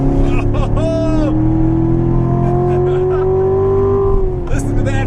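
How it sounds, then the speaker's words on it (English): A 2014 Chevrolet Corvette Stingray's engine and exhaust in track mode, a loud steady drone that climbs in pitch under sustained throttle, with brief blips and a shift near the end, and people talking over it. "And you can tell how in track mode it switches the exhaust notes"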